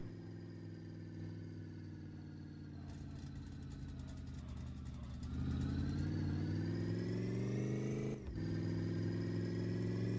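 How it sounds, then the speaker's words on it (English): A V8 truck engine in a driving video game idles and then revs up, its steady drone climbing and growing louder, with a brief dip near the end before the roar resumes. "So we got the V8 in this truck."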